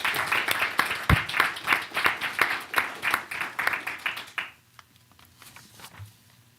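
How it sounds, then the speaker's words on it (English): A moderate round of applause at a school board of education meeting honoring student scholars: distinct hand claps blend into steady clapping that fades out abruptly partway through, leaving a few scattered claps. "Let's give these scholars a big round of applause."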